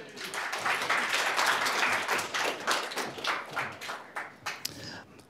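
Audience clapping after a coding workshop at an AzureCraft event, a burst of applause that is loud at first then thins into scattered claps and taps before fading out.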